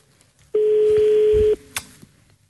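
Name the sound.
telephone dialing and ringing, call cutting off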